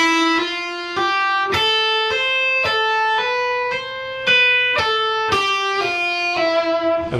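Electric guitar cycling a lick very slowly, each picked note ringing clearly in an even, deliberate pulse, close with no talking.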